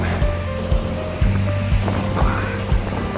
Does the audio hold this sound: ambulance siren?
no